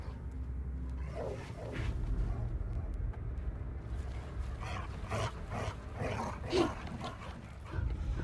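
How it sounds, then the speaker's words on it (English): A dog in the horror video game The Casting of Frank Stone, giving several whimpering yelps and low growling sounds over a dark ambient game soundscape. "Some kind of dog here."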